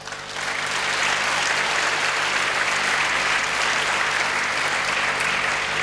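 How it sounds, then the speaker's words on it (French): An audience at an international conference on afforestation in Brazzaville breaks into loud, sustained applause, a dense wash of clapping that holds steady throughout with no voices over it. "je voudrais que nous applaudissions la FAO qui a pris le lead de cette session"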